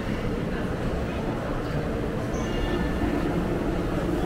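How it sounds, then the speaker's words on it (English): A Disney resort monorail on the move gives a steady, loud rolling rumble and rushing hiss that holds evenly for the whole stretch, with no clear break or stop. "Here's the monorail. We're gonna take the resort monorail today."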